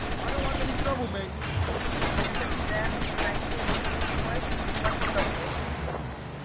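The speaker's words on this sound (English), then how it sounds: "Good shooting, my friend." Dense, continuous gunfire in a shootout in the video game GTA Vice City, loud rattling bursts layered over a constant noisy background throughout, with game voices talking over it.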